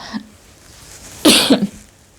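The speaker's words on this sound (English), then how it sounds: "Apologies for coughing in your ears." A single sharp, close cough bursts out after a moment of near silence, followed by a brief trailing throat sound.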